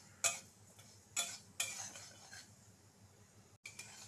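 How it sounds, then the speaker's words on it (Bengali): A knife slices cucumbers on a board, giving three or four crisp, close cuts with brief sliding sounds in between over a quiet background. "তো আমি শসাগুলো সুন্দর করে কেটে নিচ্ছি"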